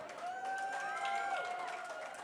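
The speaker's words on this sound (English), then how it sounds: "I'm going to see which table can clap the loudest." Tables of guests at an awards event clap together in a fairly soft, rowdy burst, with whistles and faint cheering mixed into the patter of hands.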